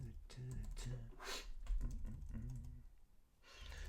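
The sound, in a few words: typing on a computer keyboard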